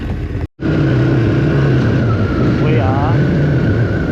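A KTM 1290 Adventure R motorcycle engine drones steadily and loudly at close range while riding Australian bush trails, its pitch dipping and rising slightly, with heavy wind rush throughout.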